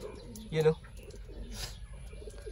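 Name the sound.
pigeons cooing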